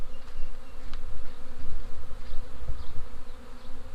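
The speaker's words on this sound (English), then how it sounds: "Got a bit of a bee swarm here" A wild honey bee swarm in New Zealand hums steadily and close, a thick layered drone from many bees, with the odd bee zipping past and no voices.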